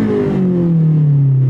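A 1997 Honda Civic Type R EK engine revs steadily, its tone sliding gradually downward over a second and a half, loud and close with no talking.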